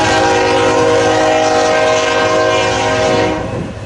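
An empty ethanol freight train passes close by, with a loud sustained multi-tone horn blast over rumbling wheels and wagons, fading near the end.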